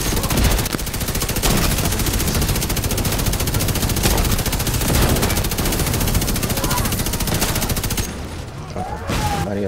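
Gunfire in the video game The Division 2: loud, nearly continuous machine-gun and rifle fire hammering throughout, easing off near the end, with players talking over the shooting.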